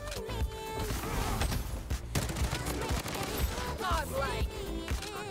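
Dense gunfire in the Bloodstrike shooter game, rapid cracks and bursts layered with clattering effects and game music, loud and busy throughout.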